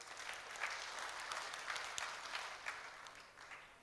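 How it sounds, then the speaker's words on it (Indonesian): Audience at a village development seminar applauding, a steady wash of clapping heard at a distance, fairly faint and continuous for several seconds with no speech over it. "Alhamdulillah, tepuk tangan untuk Pak Jokowi."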